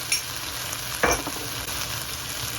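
A cornflour slurry goes into a mushroom mixture frying in a pan for a road-side-style snack, giving a steady close sizzle and crackle with a sharper burst of bubbling as the liquid hits.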